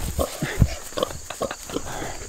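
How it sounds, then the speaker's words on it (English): Farm pigs and other livestock give short grunts and snorts amid shuffling and clopping steps nearby, with a person talking over them. "And pigs have a ton of personality."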